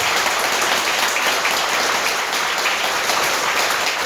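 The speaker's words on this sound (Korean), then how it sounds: "흥성 큰 스님께 다시 한번 감사의 큰 박수 부탁드리겠습니다" Large audience clapping in thanks after a Buddhist monk's Dharma talk at a Korean Avatamsaka (Hwaeom) dharma assembly; dense, sustained applause fills the entire stretch at an even level, with no voices heard over it.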